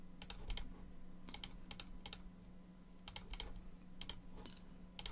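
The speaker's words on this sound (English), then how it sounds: "Type in your password." A password typed on a computer keyboard: quick clusters of light key clicks in short bursts, close and quiet over a faint background hum.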